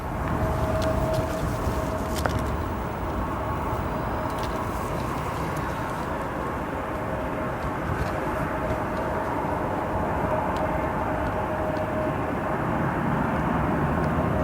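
A Lufthansa airliner at Chicago O'Hare International Airport, a broad continuous low jet rumble with a steady whine that holds for the whole stretch at moderate distance, with no talking.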